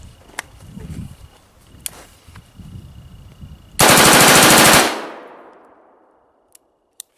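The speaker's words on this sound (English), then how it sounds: "Let's fire another magazine." An automatic gun empties a full magazine in one loud, rapid burst lasting about a second, with a long ringing decay afterward. Quieter handling clicks and thumps come before and after the burst.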